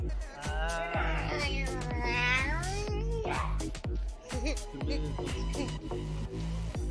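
In the video game Super Seducer 2, a woman imitates a cat, drawing out sultry mewing meows over a thumping rhythmic music backing, with talk mixed in.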